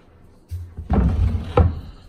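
A hardwood drawer in a custom-built master closet slides open, giving a few soft thumps and a knock that end in a firmer clunk, close by with no talking.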